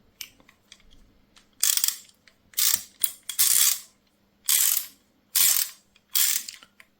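An ungreased Parkside socket set ratchet turning, giving bursts of rapid, dry, hollow clicking, about six separate runs close up, each lasting around half a second, with quiet gaps between.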